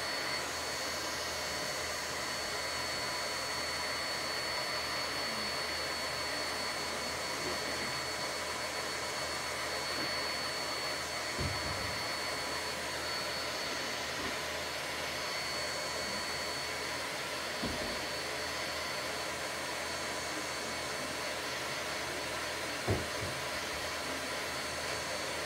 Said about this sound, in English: get the hair dryer on high